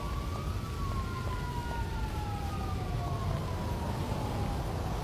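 A fire truck's wailing siren rises and falls steadily over constant low traffic rumble, sounding a short distance away, near a grass fire in Bangladesh.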